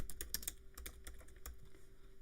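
Keys on a computer keyboard are typed in a quick, uneven burst of soft clicks, close but quiet, with no voice.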